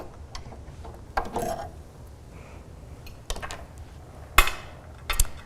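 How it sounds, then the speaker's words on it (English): The regular presser foot comes off a sewing machine with a few sharp, close clicks and small metallic taps spread over several seconds, with quiet pauses between them. "So I'm going to remove my regular sewing foot."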